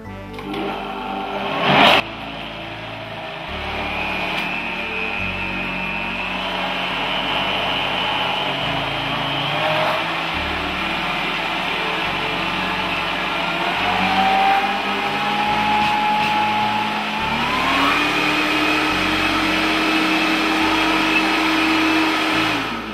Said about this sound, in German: Dann läuft der Mixer noch einmal.